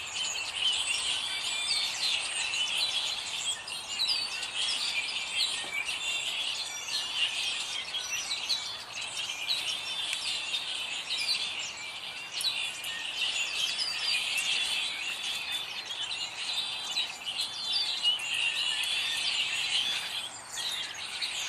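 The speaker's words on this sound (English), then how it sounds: "listen to the birds, and listen to how they sound" Many birds sing and chirp outdoors, a dense continuous chorus of high, busy calls filling the whole stretch at moderate distance, with no talk.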